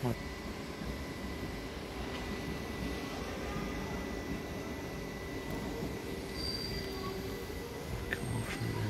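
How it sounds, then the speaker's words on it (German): A new C2 subway train rumbles steadily along the tracks, a constant low roar with faint metallic squeals, heard from inside the car. "Normale U-Bahn."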